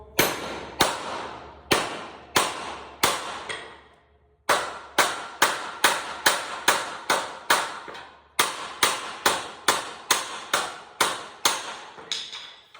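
Rivets are headed cold by hand with a hammer, a long run of sharp, ringing metallic blows, singly and in quick groups with short pauses, each strike decaying briefly before the next.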